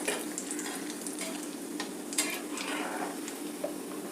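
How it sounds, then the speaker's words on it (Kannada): Dry coconut fries in a pan on the stove with a steady, close sizzle and occasional light scraping taps from stirring. It is continuous and moderately quiet, with no voices. "ಒಣ ಕೊಬ್ಬರಿ ಸ್ವಲ್ಪ ಫ್ರೈ ಮಾಡ್ಕೊಳ್ತೀನಿ"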